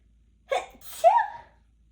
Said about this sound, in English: Confirmation sneeze.